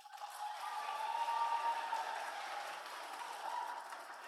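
Audience at a Catholic charismatic conference talk in New York City bursts into sustained applause, a dense wash of clapping that swells and holds loudly for several seconds with no talk over it.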